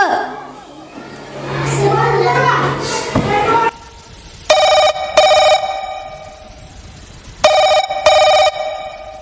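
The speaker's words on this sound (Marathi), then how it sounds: "फोनच लावा लागेन आता शबुराव" An old-style telephone bell rings in two double bursts, loud and close, after a stretch of lively voices and chatter in the background at a school annual gathering play.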